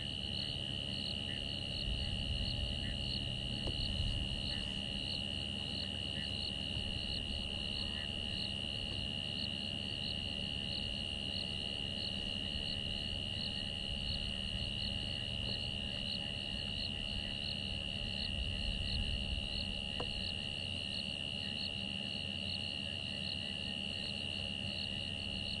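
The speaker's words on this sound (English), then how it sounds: "Frogs and crickets are really beginning to call now, which is wonderful." Crickets and frogs calling at sunset in the African bush on a safari drive, a steady dense chorus holding throughout with a continuous high insect trill and lower croaks beneath, no talk.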